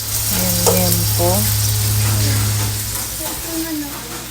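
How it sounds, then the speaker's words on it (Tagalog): Food frying and grilling in a pan on a home stove gives a steady, close sizzle throughout, with faint voices in the background. "Yan, tapos nagpe-prito na, nag-grill na ako ng ulam ni Ate Ella."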